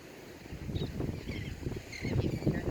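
Wind by the sea rushes over the microphone with a low rumble of ocean water, a steady, blustery wash that swells toward the end.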